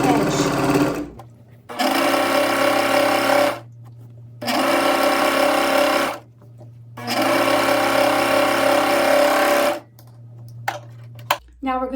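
Serger sewing machine running in three long bursts with short pauses while its blade trims the edge of T-shirt fabric, a loud, fast mechanical whir that starts and stops abruptly up close.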